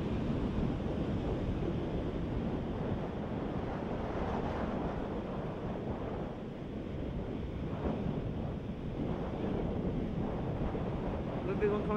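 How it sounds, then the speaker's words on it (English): Ocean waves rolling in along a beach and rocks make a steady, broad roar of surf mixed with wind buffeting the microphone, continuous for the whole stretch with slight swells in loudness. "As I watched the waves rolling in along the beach and rocks"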